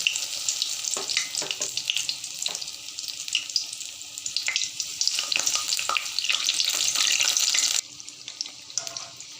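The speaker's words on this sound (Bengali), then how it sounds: "বাকিগুলো আমি এভাবে ফ্রাই করে নেব" Cauliflower pakoras frying in hot oil, a dense continuous hiss and crackle close by with a few sharper pops, lasting several seconds and cutting out abruptly near the end; no talking.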